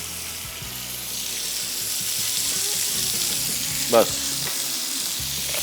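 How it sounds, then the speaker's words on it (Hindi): Chicken seasoned with black pepper and salt frying over high heat in a pan, a steady broadband sizzle throughout with a brief louder spatter near the end and a short spoken word. "इसके बाद इसको हमने तेज़ आंच पे फ्राई करना है, मैक्सिमम 5 से 6 मिनट।"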